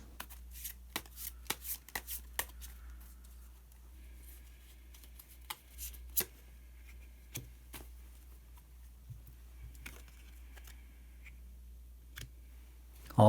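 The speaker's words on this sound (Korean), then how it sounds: "히든 카드를 한 장 더 뽑아보도록 하겠습니다" Tarot cards are shuffled and drawn by hand in a quiet room, giving soft riffling clicks and taps that come in clusters early on, then sparse single snaps, all faint and close with a low hum underneath.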